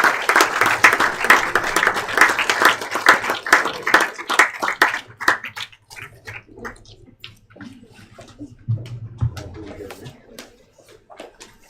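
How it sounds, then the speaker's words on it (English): A crowd claps loudly in sustained applause for participants and winners at a college Management Day event, which fades out into scattered claps and a few murmurs. "A round of applause for our participants and our winners for today."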